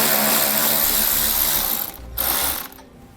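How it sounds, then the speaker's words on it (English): A ratchet fitted with a 7mm socket turning out a bolt next to a vehicle's fender liner, its loud, rapid clicking running steadily, then pausing briefly before a final short burst. "1 bolt that we're going to need to remove on each side using a 7mm socket"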